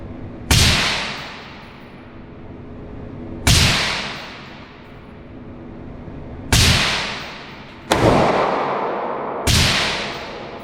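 Five loud, sharp gunshots from a Canik Mete MC 9 Prime 9mm pistol, fired at uneven intervals, each a hard crack followed by a long echoing decay outdoors.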